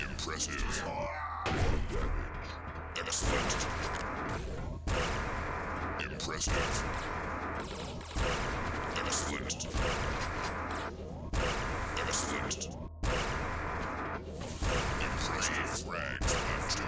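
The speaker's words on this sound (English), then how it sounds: "Where am I getting shot at from?" Enemy gunfire in a video game deathmatch on the map Apocalypse Void, repeated loud blasts, thuds and whooshes in dense overlapping bursts throughout, with a voice talking over it.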